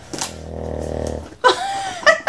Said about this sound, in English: Love the snoring.